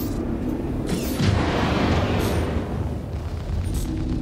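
Weapons fire from a Scorpius fighter ship in Star Citizen: a loud, sustained roaring barrage of blasts and rumbling impacts, steady throughout with no clear talk.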